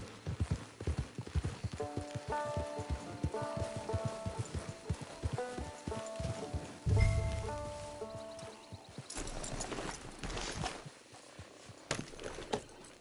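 Horse hooves clip-clopping in a steady walking rhythm in Red Dead Redemption 2 Online, with soft music underneath, followed by a heavier thud and rustling as the hoofbeats continue.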